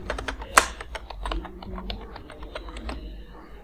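Keys clatter on a computer keyboard as a number is entered, a quick run of close, crisp taps with one sharper strike near the start, no voices over it.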